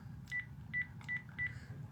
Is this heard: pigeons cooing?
no